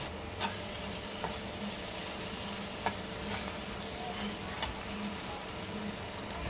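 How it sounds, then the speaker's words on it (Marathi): Paneer cubes and cashews fry in a pan for kaju paneer masala, a steady, fairly quiet sizzle with occasional light clicks of stirring and no talking. "त्यानंतर यामध्ये पनीर आणि काजू टाकून घ्या आणि 2 मिनिटं शिजवून घ्या"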